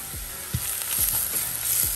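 Pav bhaji masala stirred into vegetables frying in a pan, with a steady hiss of sizzling and soft, regular scraping strokes of the spoon about every half second, close and fairly loud, no voices.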